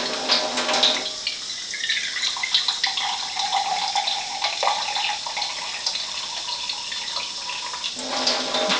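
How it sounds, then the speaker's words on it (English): Kangen alkaline water pours steadily into a container for several seconds, a close, continuous splashing stream that rises in pitch slightly as the vessel fills, with no voices. "Alright, so I'm going to go ahead and pour that now."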